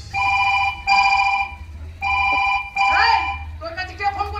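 A mobile phone rings for an incoming call in a series of loud, regular electronic ring bursts separated by short gaps, with a voice cutting in near the end.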